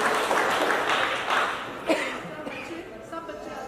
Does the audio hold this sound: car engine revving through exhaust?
no